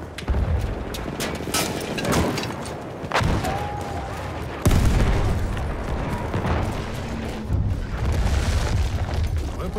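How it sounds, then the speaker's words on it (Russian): Grenade blast in the World War I shooter Battlefield 1, a heavy boom rising out of a dense, continuous din of battlefield gunfire and rumble. "Граната пошла!"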